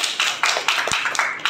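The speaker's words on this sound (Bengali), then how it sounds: "হাততালি নেন ওর জন্য" A crowd at a student movement rally claps for a released activist coming on stage, producing brisk, rhythmic bursts of hand claps close by.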